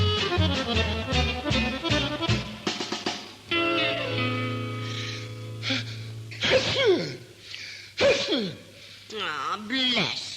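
A single sneeze from someone with a bad cold bursts out in a family comedy scene, set among light music and other voices talking.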